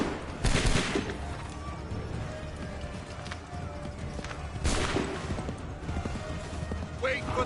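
A volley of musket gunfire crackles out in a loud burst, then a second burst a few seconds later, amid the noise of a battle in a game about a hunt for freedom, with shouted commands nearby.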